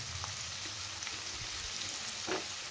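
Two onions frying in a pan while mini samosas are being made, giving a steady low sizzle throughout with a couple of faint clinks, and no voices.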